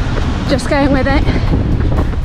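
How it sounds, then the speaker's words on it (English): Strong wind buffets the microphone with a loud, continuous low roar during a marathon run, while a runner speaks briefly over it. "It's really windy"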